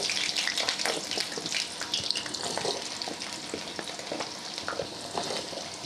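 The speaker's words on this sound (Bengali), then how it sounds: "এবার আমি দিয়ে দিচ্ছি কেটে রাখা আলু।" Cut potatoes tumble into a hot pan and fry with a loud, steady crackling sizzle, broken by scraping stirs and clattering bursts, close and without talk.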